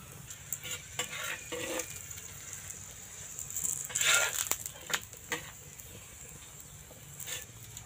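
Aloo paratha fries in a pan with a little oil, a steady low sizzle under intermittent scraping and clattering, with one brief louder burst midway.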